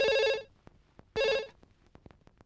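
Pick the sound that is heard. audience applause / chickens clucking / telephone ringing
telephone ringing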